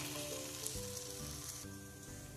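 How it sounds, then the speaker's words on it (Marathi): Amaranth flour chila batter spread on a griddle with ghee, giving a soft, steady sizzle that stays even and fairly quiet throughout, with no voices. "थोडेसे तूप घालून तूप तव्यावर पसरून घेऊ. बॅटर तव्यावर पसरून घेऊ."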